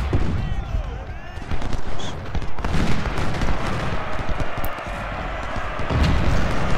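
Dense battlefield gunfire in the Civil War strategy game Ultimate General: Civil War, loud rolling musket volleys and cracking shots piling up with booming cannon and thuds, continuous and close with no gaps.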